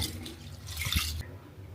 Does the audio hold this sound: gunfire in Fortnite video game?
no